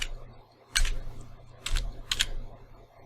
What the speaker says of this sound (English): if I were to type on the keyboard